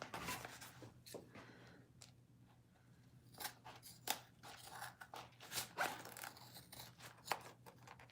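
Scissors trim sewing fabric for a crossbody bag, a series of close, crisp snipping cuts in uneven bursts, some quick and clustered, over a faint steady background hum, with no speech.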